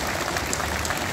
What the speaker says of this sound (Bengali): আমরা তাদের প্রতি আমাদের কৃতজ্ঞতার প্রকাশ স্বরূপ একটি জোরে হাততালি দিতে চাই